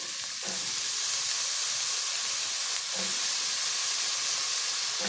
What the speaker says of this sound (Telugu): ఆలు ముక్కలు కూడా బాగా వేగుతున్నాయి